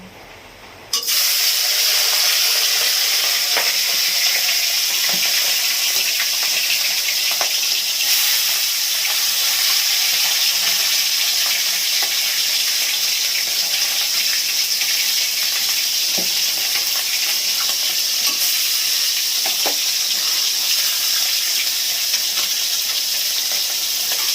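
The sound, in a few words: tangra fish frying in hot oil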